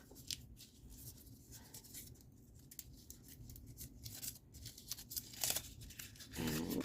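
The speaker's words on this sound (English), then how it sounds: "So what I'm going to do is crumple this up." A paper label is crumpled by hand, giving crackly, irregular crinkles and rustles in bursts, close and fairly quiet.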